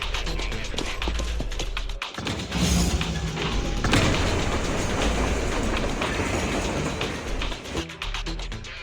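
A train in the video game Zenless Zone Zero begins to move, with a heavy rumbling roll, metallic clatter and thuds building into a sustained loud rolling noise before easing off near the end.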